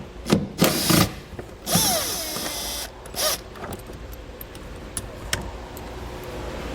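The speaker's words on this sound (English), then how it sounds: "We'll grab our 10mm socket now and get these removed." A 10mm socket driver removes the panel screws on a 2016 Mazda, with a few loud close bursts of tool noise at the start followed by quieter clicks and handling sounds.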